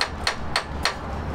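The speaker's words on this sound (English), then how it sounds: "so Richard will have to just bang it with the hammer." Three sharp metallic hammer strikes on a school bus starter ring out at an even pace, fairly close, with quiet pauses in between.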